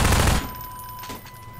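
Rapid automatic gunfire in the video game Half-Life 2, a loud, dense burst of shots at the start that cuts off sharply, followed by quieter game ambience and faint echoes.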